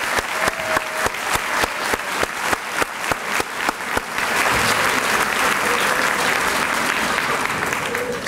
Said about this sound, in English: let's give them a big round of applause to all our award winners tonight